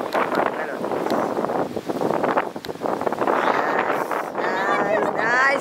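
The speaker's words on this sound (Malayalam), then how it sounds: "Guys, നല്ല കാറ്റുണ്ട് ഇവിടെ." Strong wind gusts buffet the microphone outdoors at the Grand Hyatt Kochi, a steady rushing roar that runs throughout while a person talks over it.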